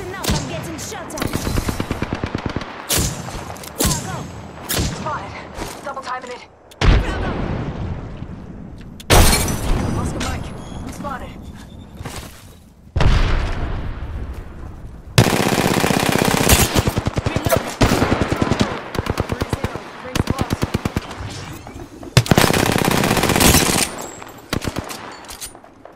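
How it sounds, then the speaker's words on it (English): Rapid machine gun bursts and single gunshots in the video game Apex Legends, loud and close, broken by short pauses and booms, with a player talking over the firing. "Listen up, I'm getting shot at."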